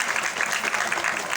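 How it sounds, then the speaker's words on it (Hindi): An audience at a Diwali gathering applauding, a dense burst of many hands clapping steadily and fairly loudly for a brief moment. "विशाल की तालियां"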